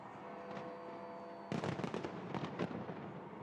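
New Year fireworks over the Thames in London burst in a rapid cluster of crackling explosions after a stretch of steady crowd noise, fairly distant, then fade back into the ambient hum.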